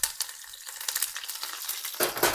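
Sliced garlic and curry leaves crackle and sizzle in hot tempering oil for a dosa, a dense, steady frying hiss with sharp pops throughout, growing louder near the end, close by with no talking.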